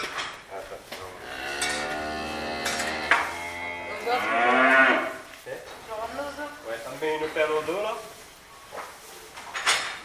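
Cows mooing in a cattle barn at feeding time, several long drawn-out lows overlapping one another, fairly close, with clanks and rattles of barn equipment in between.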